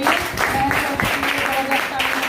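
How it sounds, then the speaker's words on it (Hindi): Sustained applause from an audience at an IMC meeting in Varanasi, a steady wash of clapping that runs the whole time with voices mixed in. "उनके लिए जबरदस्त ताली होनी चाहिए"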